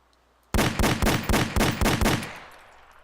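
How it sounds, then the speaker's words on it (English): Improved pistol gunfire from Arma 2 with the ACE mod: a quick string of about seven sharp, loud shots at an even rhythm, ending in a short fading echo. "time for improved pistol sound"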